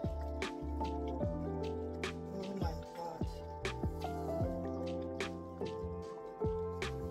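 Liquid splashes and drips in a simmering pot of Nigerian green vegetable soup with fish, a steady run of wet plops and sputters over the low rumble of cooking, with one brief exclamation.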